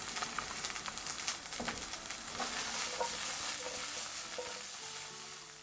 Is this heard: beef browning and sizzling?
yes